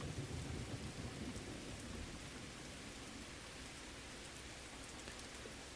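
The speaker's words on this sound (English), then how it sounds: "It's a real thunderstorm, isn't it? Not just a little bit of rain." Thunderstorm with heavy rain in the train game Derail Valley: a low rumble of thunder rolls at the start and fades into a steady hiss of rainfall, with no talking.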